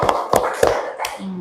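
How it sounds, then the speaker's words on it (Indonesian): A few claps from a small group in a classroom, four or five distinct close hand claps in a loose rhythm over a second and a half, with a faint voice at the end. "Nah, kasih tepuk tangan dulu."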